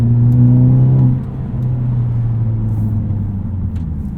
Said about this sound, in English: we get just a little bit more exhaust tone